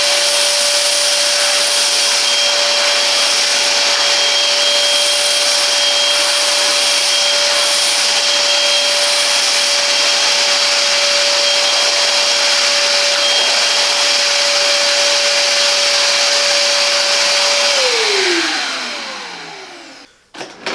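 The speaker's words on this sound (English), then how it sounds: "this vacuum cleaner is ideal for households, workshops, garages and construction sites" A Parkside PWD 25 C4 wet and dry vacuum cleaner runs loudly and steadily with a constant whining motor tone, then winds down as it is switched off near the end.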